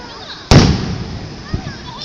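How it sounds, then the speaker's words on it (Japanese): Cat-shaped fireworks at the Seibuen amusement park display, heard from the wave pool, give one sudden loud boom followed by a rumbling tail and a fainter second pop. "猫さんの花火。"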